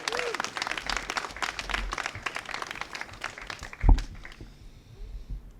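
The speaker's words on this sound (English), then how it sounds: "Let's give him a big round of applause." Audience applause at a soccer club press conference in San Jose, welcoming a homegrown Earthquakes player; steady clapping from a crowd for several seconds, with a brief louder bump near the end as it fades.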